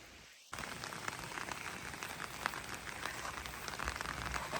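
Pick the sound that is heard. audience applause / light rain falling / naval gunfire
light rain falling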